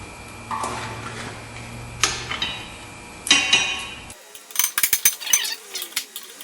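A ratchet with an extension working on a rear wheel bearing bolt of a 2007 Subaru Legacy, close metallic clicks and clanks, scattered knocks, then a burst of rapid ratcheting ticks.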